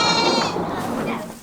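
Goats being led out onto a garden plot bleat loudly and close by in a drawn-out, wavering call lasting over a second.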